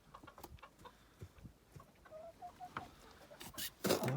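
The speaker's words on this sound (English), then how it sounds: "These are my regular sized chickens" Regular-sized backyard chickens cluck in short, scattered bursts close by, with a louder flurry of clucking near the end; a faint voice is heard briefly.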